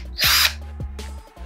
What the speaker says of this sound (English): This is the drill machine we are going to use.